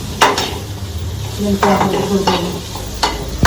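Potatoes fry in a pan with a soft sizzle, broken by several sharp clinks and scrapes of a utensil stirring against the metal.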